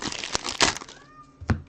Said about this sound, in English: You can hear one of the cats down there right now.